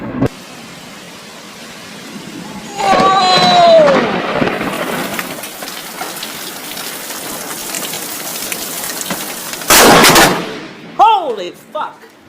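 Close lightning strikes in a thunderstorm barrage, heard as sharp, loud thunder cracks with a sudden blast near the middle and another burst near the end, over steady rain and excited voices.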